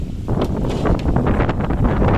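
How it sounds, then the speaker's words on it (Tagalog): Strong wind buffets the microphone in loud, continuous gusts with rustling underneath. "yung lakas ng hangin"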